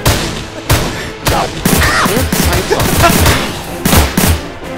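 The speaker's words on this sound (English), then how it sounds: "This is a 3-round burst" Rapid three-round bursts of gunfire in the video game Orion: Dino Horde, several loud clusters of sharp shots repeating through the stretch, with faint other game sounds between them.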